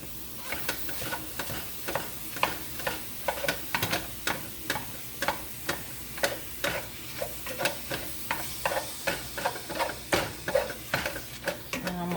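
Ground meat sizzles and fries in a pan for shepherd's pie while a utensil stirs and scrapes it in steady, repeated strokes, close and fairly loud against a constant hiss.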